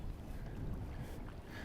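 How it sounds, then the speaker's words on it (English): Steady wind buffets a microphone outdoors on the water beside a kayak during a fishing trip, a continuous low rumbling gust noise at moderate, even level with no talking. "it's windy"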